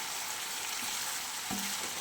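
Taro stolons (kochur loti) seasoned with sugar and chili powder frying in a pan for bhorta give off a steady, faint sizzle with a small stirring scrape partway through.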